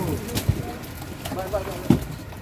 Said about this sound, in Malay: Burung tu.